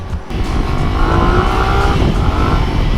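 A CFMOTO 450SR sport motorcycle engine roars close by under hard throttle, a dense growling rush that holds steady and loud throughout.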